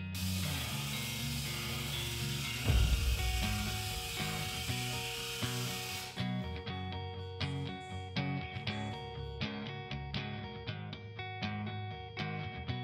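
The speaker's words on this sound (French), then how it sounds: "Je vais percer avec un petit trépan diamant monté sur la perceuse." Small diamond hole saw on a drill cutting into large format tile for a shower, a sustained whining grind that drops to lighter intermittent scraping and tapping partway through.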